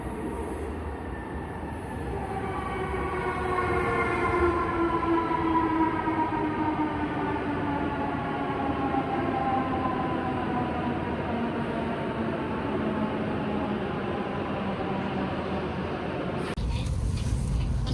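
A train runs along the rails in Japan, making a continuous loud rumble and clatter heard from inside. A rising whine of the motors climbs steadily, then the sound shifts abruptly near the end.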